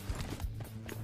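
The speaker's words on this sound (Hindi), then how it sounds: "फुटस्टेप्स की आवाज सुनो।" Footsteps in PUBG Mobile: a brief run of quick, soft thudding steps at moderate distance, faint and alone.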